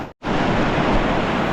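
Loud, turbulent river water rushing steadily during a river crossing in a forest, a dense broadband roar that cuts out briefly near the start and then continues unbroken.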